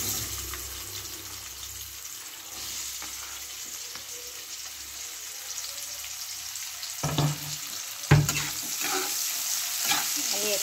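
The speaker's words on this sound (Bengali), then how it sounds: "যখন একটা সেন্ট ছাড়বে ভালো, তখন আমি পেঁয়াজগুলো দিয়ে দিচ্ছি।" Onions dropped into spices frying in oil for Bengali egg pulao, a steady sizzle with stirring scrapes and a couple of louder clatters as the onions go in, close and alone.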